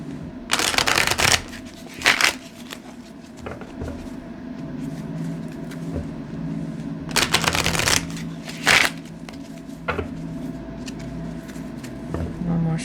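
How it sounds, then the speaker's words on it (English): Oracle cards are shuffled by hand in several brisk riffling bursts, close and crisp, separated by quieter pauses with faint handling and a voice speaking softly between them. "One more shuffle."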